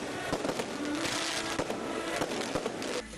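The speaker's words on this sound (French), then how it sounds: "À 0 heure, les feux d'artifice éblouissent Conakry et ses bordures de mer." Midnight fireworks over Conakry and its seafront, a continuous loud barrage of crackling bursts and sharp bangs filling the whole stretch, with no talk.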